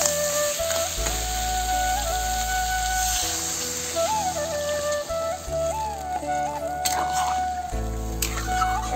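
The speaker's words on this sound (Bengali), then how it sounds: "এখন আমি এতে রসা দিয়ে দেবো।" Crab curry sizzles steadily in a pan as gravy goes in, a continuous frying hiss with small bubbling and stirring sounds, close and fairly loud, with no talking.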